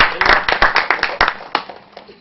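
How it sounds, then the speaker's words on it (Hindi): An audience at a stage play claps loudly and close by, a quick run of sharp, uneven hand claps that rises briefly and then thins out. "जोरदार तालियां।"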